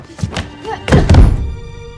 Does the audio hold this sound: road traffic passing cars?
no